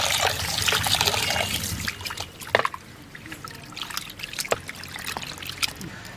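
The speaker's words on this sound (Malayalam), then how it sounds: "അപ്പം നല്ല കല്ലുപ്പിട്ടാണ് ഇത് കഴുകാൻ പോകുന്നത്" Prawns being washed in water with rock salt: sloshing and trickling water, heavier at first, then giving way to scattered drips, splashes and handling clatter, close by, with faint voices.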